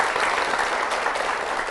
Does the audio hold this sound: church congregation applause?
yes